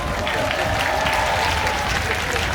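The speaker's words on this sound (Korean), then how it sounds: "다시 한 번 큰 박수 부탁드릴게요" Audience applause at an outdoor Korean wild ginseng festival stage, a dense steady wash of many hands clapping throughout, with faint talk and crowd murmur underneath.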